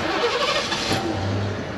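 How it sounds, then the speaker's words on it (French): A 1989 Ford LTD Country Squire LX station wagon's engine cranking and catching, the start-up rising into a steady low rumble at close range, with no talking. "Alors on va la redémarrer."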